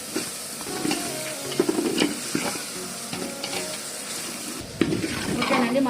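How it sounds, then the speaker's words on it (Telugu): Masala spices fry in a pan for chicken biryani, with a soft constant sizzle under repeated scraping and clinking strokes of a spoon stirring against the metal, close and fairly quiet. "మసాలా అంతా బాగా ఫ్రై అయిపోయిందండి"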